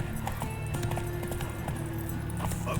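Horse hooves clip-clopping at a gallop in The Witcher 3, a steady rhythmic beat of impacts under game music and ambient noise, with no speech.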